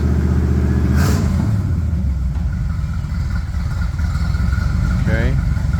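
A Bombardier Snow 75 snow vehicle engine runs steadily with a low rumbling drone and brief revs, close and loud, with people talking over it.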